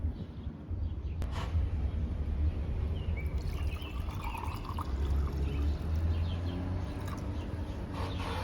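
Water poured into a blender jar of beet, kiwi, mint, ginger, lemon and chaat masala for juice, a soft steady trickling pour near and fairly faint, with no voices.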